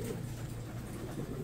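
Training pigeons cooing softly amid a steady low ambient hum, their murmuring calls continuous and fairly faint.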